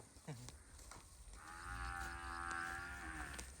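Cattle on a Punjabi farm give one long, loud moo that swells and holds for about two seconds, following a few short knocks and faint background sounds.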